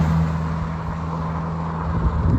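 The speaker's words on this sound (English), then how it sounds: "here comes a car" A single car passes nearby, a steady low road rumble with a tonal hum that holds for a couple of seconds without any voices.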